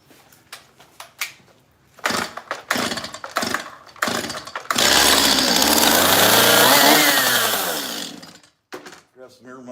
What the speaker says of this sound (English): I'm gonna get chainsaw out for something.